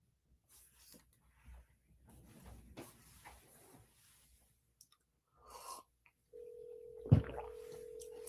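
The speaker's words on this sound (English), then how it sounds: "It's ringing." A landline call rings through on the phone line as a faint, steady ringback tone that starts after some quiet handling noises and holds on, low and distant.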